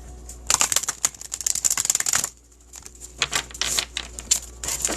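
Oracle cards are shuffled in rapid, crisp riffling bursts. The flurries are loud and close, with a brief pause before another round of shuffling.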